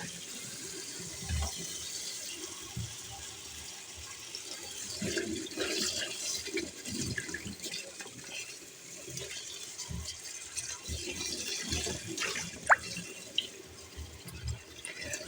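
Tap water runs steadily into a sink while green onions are rinsed under it, a soft continuous splashing with occasional small knocks and drips.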